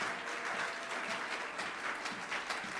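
A church congregation applauding during a sermon, a dense, steady wash of many hands clapping together, filling the room without pause.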